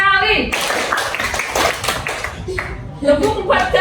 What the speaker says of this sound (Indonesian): Tepuk 1 kali, tepuk 2 kali, tepuk 3 kali,